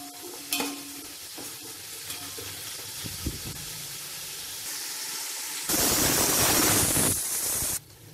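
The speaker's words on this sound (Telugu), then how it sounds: "ఇప్పుడు హై ఫ్లేమ్ లోనే ఇలా ఒకసారి కలిపేసుకొని బాగా వేగనివ్వాలి ఉల్లిపాయ ముక్కల్ని" Onion pieces and green chillies fry on high flame with cloves for mutton biryani, a continuous sizzle with occasional stirring clinks, swelling into a loud hissing burst near the end before cutting off abruptly; no speech.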